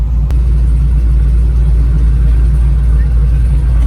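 An autocross car's engine idles loud and close with a steady low rumble, holding an even drone for the whole stretch without revving.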